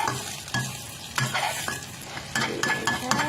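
Chopped cha-om (acacia leaf) omelette frying crisp in a pan, a steady close sizzle broken by bursts of stirring and scraping every second or so, with no talking.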